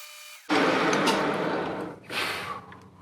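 A boring bar cutting a 5/8 hole on a Jet-16 mill starts abruptly with a harsh, buzzing, slightly chattering machining noise, briefly dips, then surges again, close and loud.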